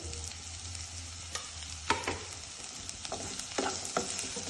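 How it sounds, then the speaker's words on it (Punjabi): Chopped carrots and capsicum fry with browned onion in a pan, giving a steady close sizzle broken by a few sharp clinks and scrapes of stirring. "ਆਪਾਂ ਹੁਣ ਕੱਟੀ ਹੋਈ ਗਾਜਰ ਪਾ ਦਿੰਨੇ ਆ ਤੇ ਨਾਲ ਹੀ ਆਪਾਂ ਸ਼ਿਮਲਾ ਮਿਰਚ ਕੱਟੀ ਹੋਈ ਪਾ ਦਿੰਨੇ ਆ"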